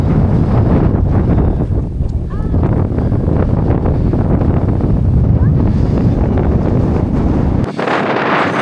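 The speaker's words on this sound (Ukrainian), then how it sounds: "Вітер тут сильний." Strong wind on a hilltop burial mound roars and buffets the microphone almost without pause, a loud, rumbling gusty blast that briefly drops away near the end.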